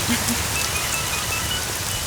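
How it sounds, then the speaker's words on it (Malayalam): Rain falls in a dense, even hiss at night near a hostel, close and steady with no voices over it. "കനത്ത മഴയുണ്ടായിരുന്നു."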